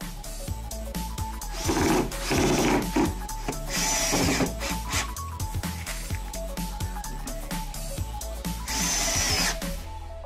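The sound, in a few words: power drill driving screws into wood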